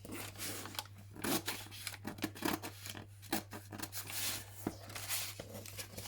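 Scissors snip and crinkle through paper corners while a junk journal is trimmed, a series of quiet, uneven cuts with light rustling under a steady low hum.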